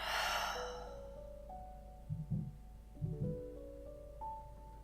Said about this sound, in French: une grande expire par la bouche